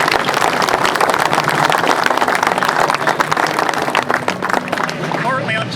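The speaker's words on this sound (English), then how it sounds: "give yourself a round of applause" Riders at a Distinguished Gentleman's Ride gathering in Christchurch, New Zealand applaud, a loud close burst of clapping with cheers and voices mixed in, tapering off at the end.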